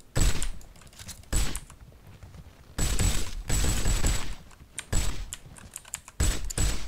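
Assault rifle fire in a video game comes in rapid bursts of sharp cracks, several volleys separated by brief pauses, loud and close with no talking over them.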